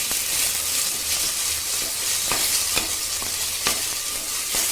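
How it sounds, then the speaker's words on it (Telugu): Boiled potatoes fry in a hot pan with a loud, steady hiss of sizzling oil, broken by several sharp spatula scrapes and taps as they are stirred. "ఇప్పుడు ఉడకబెట్టిన బంగాళదుంపలు వేసుకోవాలి."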